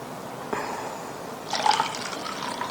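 Water poured into a pot while semolina is rinsed for halwa, a soft splash followed by a longer trickling, filling pour that swells and then continues steadily, close by with no talking.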